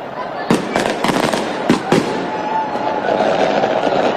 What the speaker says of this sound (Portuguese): os fogos de artifício aqui ao redor, em frente ao condomínio de Jair Bolsonaro